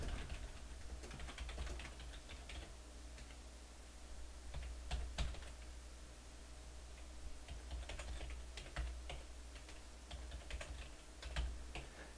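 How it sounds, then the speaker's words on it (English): Steady typing on a computer keyboard while entering a name, login name and password during Ubuntu setup, quiet scattered keystrokes with a few louder taps, heard alone against a faint room hum. "So we typed in our name, login name, password."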